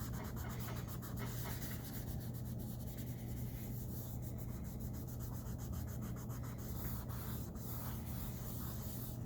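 Pencil shading on paper is blended by finger or tissue, producing a soft, continuous papery rubbing with faint repeated strokes, quiet and close, with no other sounds.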